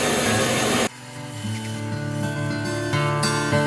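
A saw blade nibbles away a small point of plywood, a loud steady machine whine with a sudden change after the first second and fine cutting texture continuing close by.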